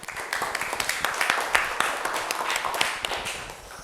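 A classroom of students claps together for a student during a teaching-practice lesson, a dense, steady patter of many hands lasting throughout, fairly close and even in loudness.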